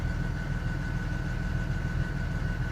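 A Cummins 5.9L diesel truck engine with a low-power fault (code P0687) idles at about 1200 RPM, a steady low rumble with a faint constant whine on top, close and even throughout with no talk.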